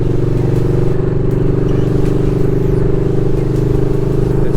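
A Yamaha Bolt motorcycle cruises on a highway, its engine giving a loud, steady droning rumble with constant pulsing throb and wind noise throughout, without talk.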